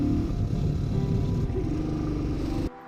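A Royal Enfield Thunderbird motorcycle engine thrums steadily while riding on the road, a dense, continuous low throb that cuts off abruptly near the end.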